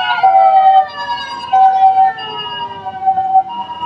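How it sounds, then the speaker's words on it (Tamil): An ambulance siren on a street in Japan wails in loud, steady repeating tones that slide slightly as it passes close by, with faint traffic underneath. "ஃபர்ஸ்ட் டைம் ஆம்புலன்ஸ் பாக்குறோம் ஜப்பான்ல"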